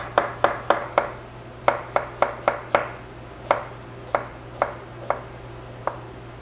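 A knife thinly slicing a cored apple, about a dozen crisp, evenly spaced cuts with a brief pause midway, close and distinct over a low steady hum.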